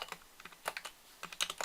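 Quick, light keystrokes on a computer keyboard, including a tab press, clicking in short irregular bursts, close and fairly quiet with no talking.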